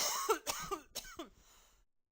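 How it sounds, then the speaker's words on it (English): A person coughs in a short close-up burst of three or four rough, raspy hacks that taper off into silence. "Let me mute so I'm not coughing in your ear."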